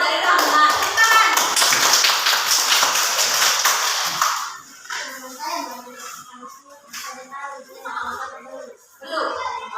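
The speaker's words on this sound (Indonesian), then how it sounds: "tepuk tangan untuk Juan." Schoolchildren in an elementary classroom clap their hands in a dense, loud burst for about four seconds, then a teacher and children talk with a few scattered claps.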